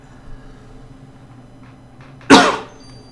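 One sharp, short cough bursts out loudly after a few seconds of near-quiet room background.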